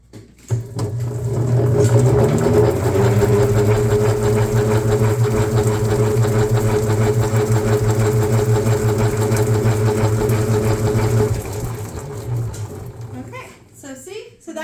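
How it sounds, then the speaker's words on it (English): A metal honey extractor spins beekeeping frames with a steady mechanical whir and hum that runs loud and even for about eleven seconds, then winds down into clanks and rattles. "see how our honey extractor, then you just flip, instead of flipping the frames themselves to go to the other side"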